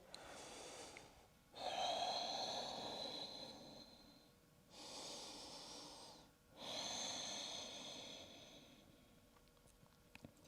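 During a forward fold in yoga, a person breathes slowly and deeply in long, airy inhales and exhales, about four breaths in all. The breathing is close and quiet, with brief pauses between breaths and no talk.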